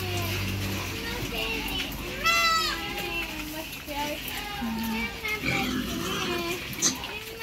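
Pigs on a farm eating spilled feed, with grunts and snuffling under a steady background and people talking nearby.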